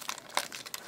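Scissors cut open a plastic blind bag, giving a short run of crinkly snips and crackles, close and fairly quiet, with no talking.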